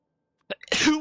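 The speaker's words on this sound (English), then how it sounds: "should have warned you about that sneeze" A single sharp human sneeze, close and fairly loud: a short intake burst followed by a broad explosive release that trails off after about half a second of silence.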